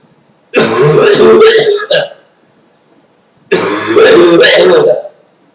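A person clears their throat and coughs in two loud, close bursts separated by a pause of quiet.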